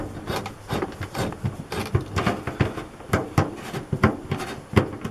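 A stick of PVC pipe with a handle and a split end rubs and scrapes against the vents of an Aliner RV trailer as they are opened and closed, giving a close series of irregular dry scraping strokes.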